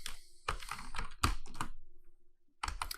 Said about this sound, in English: So we will type yes.